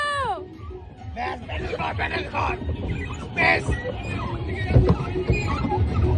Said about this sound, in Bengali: নৌকা বাইচ হচ্ছে, নৌকা বাইচ, নৌকা বাইচ হচ্ছে।